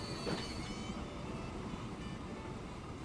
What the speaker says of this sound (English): Are we ever going to see this train?